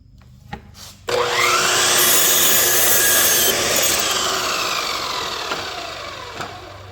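A miter saw cuts through wood for a deer blind: a short click, then the blade bites in with a loud, sustained whine that slowly fades as the cut finishes, and a final knock near the end.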